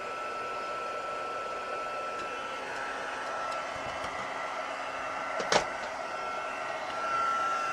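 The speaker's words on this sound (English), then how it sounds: "So I am going to get my heat tool and turn it on and heat it up." A heat tool blows hot air to melt embossing powder on a craft card, a steady soft whooshing hiss running the whole time with a brief clatter near the end.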